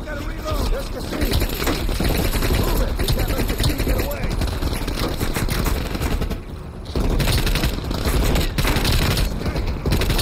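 Call of Duty: Cold War gunfire rattles loud and nearly nonstop in dense rapid bursts of shots, dipping only briefly before resuming at full intensity.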